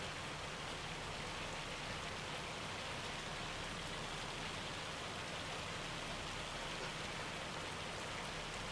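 Hail hitting a tractor cab on a Montana farm in winter, a dense, even patter and hiss that stays constant and fairly quiet the whole time, with no voices.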